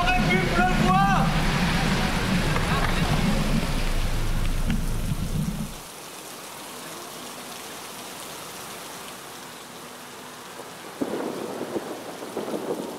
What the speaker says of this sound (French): Que 2 km, forcément il pleut.